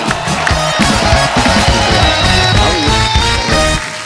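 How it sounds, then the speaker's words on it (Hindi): A studio audience at a Kapil comedy talk show applauds and cheers loudly and continuously to welcome guest Shailesh, with music playing underneath the dense crowd noise. "जोरदार तालियां शैलेश भाई के लिए।"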